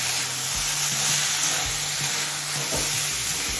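Cauliflower stalks and mixed vegetables frying on a medium flame, a close, steady sizzle with repeated scraping and stirring thuds of a spatula against the pan.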